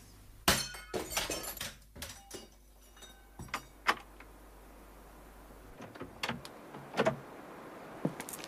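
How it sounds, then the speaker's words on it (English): A plaster bust of Napoleon smashed against a garden, heard as a sharp crash and scattered breaking thuds and clinks, sporadic impacts of varying loudness over a quiet background. "The bust was smashed against the garden"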